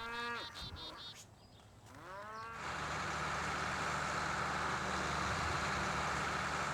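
Several cows moo in drawn-out, rising calls, followed by a steady low rumble of outdoor noise; no one speaks.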